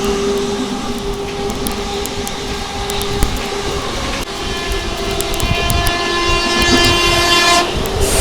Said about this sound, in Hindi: ओह तेरी भाई क्या मस्त भगा रही है भाई ये स्पेशल ट्रेन।